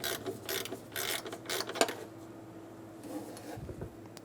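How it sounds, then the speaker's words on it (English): Ratchet wrench with a 10mm socket working a nut on the timing cover of a 2000-2006 Toyota Tundra engine: a run of fast, close mechanical clicking strokes in the first two seconds, then quieter handling noises. "Using a 10mm socket, we're going to remove that."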